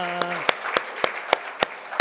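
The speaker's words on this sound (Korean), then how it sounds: "우리 그런 마음으로 다시 한번 영광의 박수 하나님께 드립니다" A church congregation gives a short burst of applause during a Sunday morning worship service, with sparse, separate claps at a steady rhythm as voices fade out at the start.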